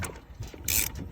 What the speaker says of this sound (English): socket and you're gonna snug them up